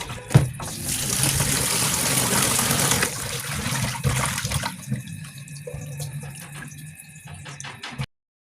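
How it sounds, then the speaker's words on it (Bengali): Pieces of pabda fish are washed under running tap water in a sink, with a steady close gush and splashing that thins out toward the end. "এখন আমি মাছগুলোকে অনেক ভালোভাবে ধুয়ে নিব।"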